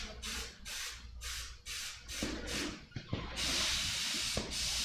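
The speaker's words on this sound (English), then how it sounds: "How's the Createx spraying?" Airbrush spraying Createx paint onto the eyelids of a mule deer shoulder mount, soft hissing bursts in short repeated passes, ending in a longer steady spray.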